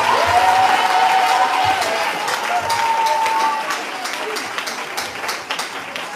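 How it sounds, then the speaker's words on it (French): A church congregation claps and cheers in praise of the Lord Jesus Christ, a dense, steady burst of applause with a few voices over it that slowly thins toward the end. "Est-ce qu'on peut acclamer pour le Seigneur Jésus-Christ?"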